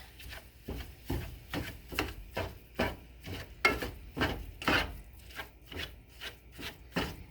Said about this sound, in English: I'm going to go ahead and let this brown.